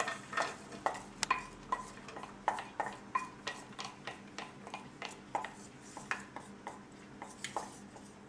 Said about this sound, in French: pendant que nous faisons revenir les oignons et l'ail